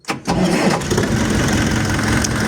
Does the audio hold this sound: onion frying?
no